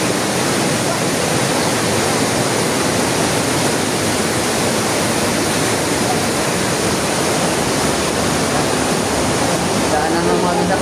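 Powerful rushing water pours steadily at Wawa Dam, a loud, continuous broadband roar filling the whole clip without a break.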